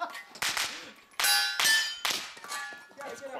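Steel targets struck by pistol caliber carbine rounds at a shooting side match, giving four or five sharp metallic clangs with ringing decay, spaced irregularly about half a second apart, fairly loud with no talk.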